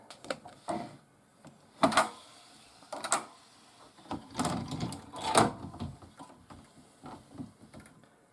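Carriage of a domestic knitting machine pushed across the needle bed while knitting asymmetrical partial stripes, giving several separate bursts of rattling, clacking mechanical noise in a quiet room.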